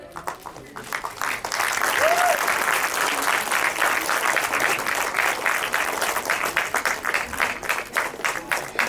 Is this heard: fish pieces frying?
no